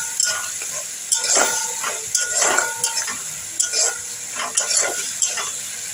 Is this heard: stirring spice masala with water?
yes